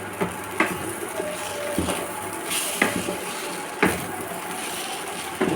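Vegetable chow mein stirred in a pan, giving repeated scraping and clattering strokes of a utensil against metal over a soft background sizzle, close and moderately loud.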